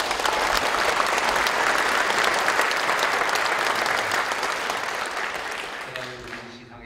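A church congregation applauds at a pastor's installation service, a dense sustained clapping from the whole room that holds steady and then thins and fades over the final seconds, with voices murmuring underneath.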